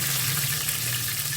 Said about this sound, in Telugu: ఇప్పుడు జీలకర్ర ఆవాలు వేసుకోండి.